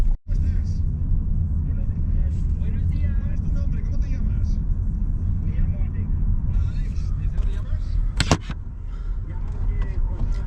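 Heavy road traffic on a busy rush-hour drive into Madrid, a steady low engine rumble with passing cars throughout, loud and continuous, plus a brief sharp burst near the end.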